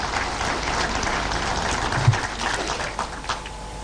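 Audience applause in a formal hall welcoming the Vice President of India at an NHRC function, a steady wash of clapping throughout, moderately loud and fairly close, with a brief louder clap or thump midway.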